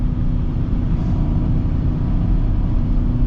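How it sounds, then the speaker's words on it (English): A 2026 BMW X7 M60i luxury SUV accelerating, a steady low engine drone heard from inside the cabin, continuous and fairly loud throughout. "Let's now get a little acceleration"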